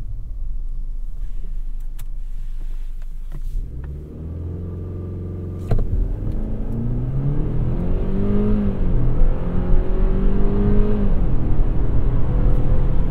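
A 2021 Genesis G80 launches from a standstill to 60 mph, engine pulling hard through rising and resetting gear pitches after a brief idle, a steady cabin rumble building in loudness, no speech.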